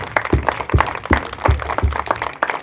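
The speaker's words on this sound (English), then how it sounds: "all of us here can give Len a round of applause" A round of applause at a memorial service: a short burst of scattered hand claps from a gathered group, uneven in rhythm and moderately loud, with no speech over it.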